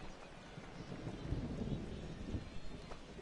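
Rain falling in the MLB The Show 19 baseball video game, a soft, steady hiss with low rumbling swells like distant thunder, faint and continuous with no voices.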